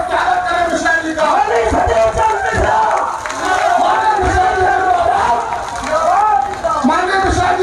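A large crowd at an outdoor public meeting in Kasganj claps and cheers in a loud, continuous roar with surging bursts, with voices shouting over the din throughout.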